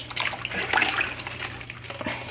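Running water splashes over collard greens being rinsed by hand, a steady close rush of tap water with small shifts as the leaves are moved.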